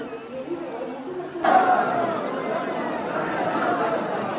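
A medium-sized crowd of devotees at a Hindu goddess temple fills the space with continuous murmuring chatter, growing louder and denser partway through, close and enveloping.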